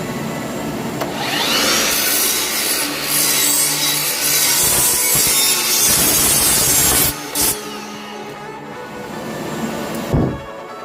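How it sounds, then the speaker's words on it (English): Loud, sustained power saw cutting through wood with a harsh, rasping whine, briefly dipping near the end before a final short burst. "If you have a sliding saw, it's a good idea to cut it in stages."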